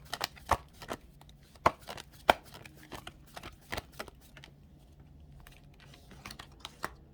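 Tarot cards shuffled and drawn by hand, giving sharp, irregular snaps and light flutters spread across several seconds, close and fairly quiet, with soft rustling between the louder clicks.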